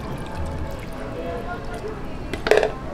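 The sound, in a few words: half cup of water poured into the egg mixture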